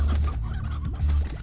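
A rooster in the video game Slime Rancher gives a couple of low, throaty clucks, close and fairly loud against steady game background sound.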